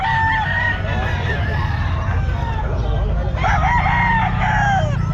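Roosters crow loudly and repeatedly at a gamefowl pet market in Calumpit, with clucking fowl close by and people talking throughout.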